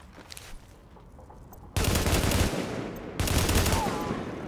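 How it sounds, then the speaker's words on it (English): Gunfire from weapons in Tom Clancy's The Division, loud bursts of automatic fire that start abruptly after a quieter stretch and continue through to the end, with a brief break partway. "Man, these weapons are so loud."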